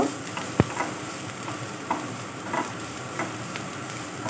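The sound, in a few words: chopped onion frying in mustard oil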